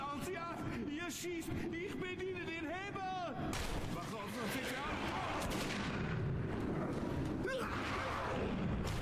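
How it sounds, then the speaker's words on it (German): Gunfire in the video game Metro 2033 Redux, a dense, continuous roar of shots and blasts that swells and grows busier partway through, with a voice heard over the first part. "Hab auf ihn geschossen."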